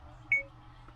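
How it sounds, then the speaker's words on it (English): A single short electronic beep from a 12-inch 4K mirror dash cam in a Ford F150 as its menu is navigated, a clean high tone standing alone over a low hum. "It allows you to turn that beep on and off"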